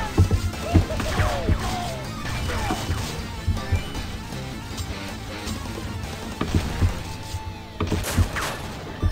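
Gunfire in the Commando 3 browser game, with repeated sharp shots and crashing impacts in dense irregular bursts throughout, mixed with game music and effects.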